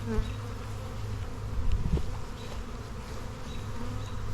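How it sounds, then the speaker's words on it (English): Steady, dense buzzing of many honey bees close by at a hive, a continuous low drone with individual insects passing near, no talking. "That's why you dump a lot of bees in here."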